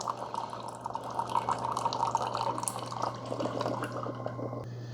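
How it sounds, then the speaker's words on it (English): Hot water pours steadily from the separate dispensing port of a Ninja DualBrew Pro CFP301 coffee maker, a continuous close trickle with a low appliance hum underneath that stops near the end. "that's a really fast hot water dispenser. I mean, as soon as you press the button, it's starting to come out"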